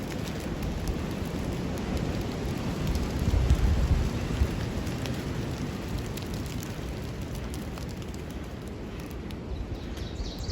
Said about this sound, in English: Something crazy about the rain.